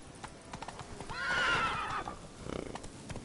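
A horse in The Witcher 3 gallops with steady clip-clop hoofbeats and lets out a loud, rising whinny midway, close and clear over faint background sound.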